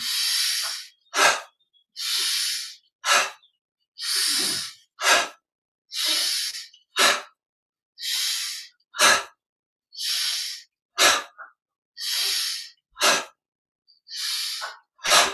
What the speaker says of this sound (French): inspire au centre, expire, inspire au centre, expire, et on continue